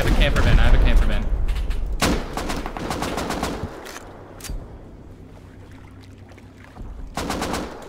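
Gunfire in the game Rust comes as bursts of sharp shots at the start and again near the end, with quieter stretches between and players talking.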